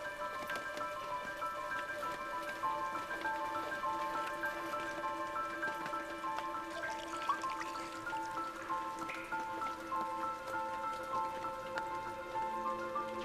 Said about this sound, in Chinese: 雨滴打到荷叶上